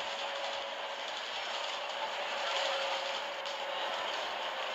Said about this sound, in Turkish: Evet, hızlı tren de devamlı çalışıyor.